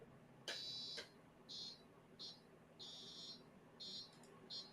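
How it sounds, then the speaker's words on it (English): Faint electronic beeps from a PicoBricks board repeat at irregular intervals, short high-pitched tones over a quiet background hum. "So it's making some beeping noises,"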